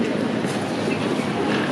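Train at a railway station in Hakodate, Japan: a steady, close rumble of rolling rail cars with a faint clatter of wheels on track, with no talk.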